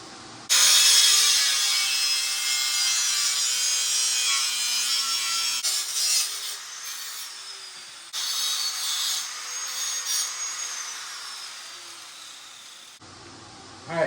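Cutting a metal patch piece for a car floor pan on a barn-find restoration, a harsh, loud grinding hiss that runs in two long passes separated by a short break.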